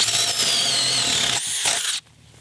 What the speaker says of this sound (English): I'm gonna drill 3 holes with this battery